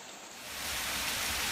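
Heavy torrential rain in Dharamshala, a dense steady wash of downpour that swells in over the first half second and then roars on evenly and loud.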